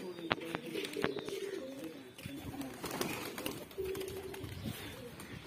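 Pigeons coo in soft, low repeated phrases close by, with occasional wing flaps and light background noise.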